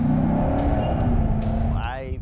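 A Corvette engine revs hard, its deep roar rising and swelling loudly with accelerating pitch over about two seconds, with a voice talking over it.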